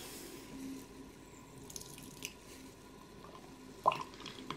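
Water squeezed through a budget AliExpress portable water filter drips out in faint, sparse drops, with a few slightly louder plinks near the end against a quiet background.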